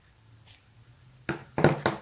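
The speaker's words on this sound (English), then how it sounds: "And you just snip." Scissors snip through card in a few quick, crisp cuts during papercraft work, close and fairly quiet, with a couple of sharp snips near the end.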